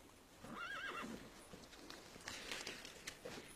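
A horse gives a single wavering neigh, fairly faint and somewhat distant, followed by soft hoof clops and background rustle in a quiet setting.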